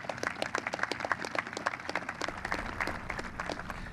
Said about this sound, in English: So how about a round of applause for Chaplain Black?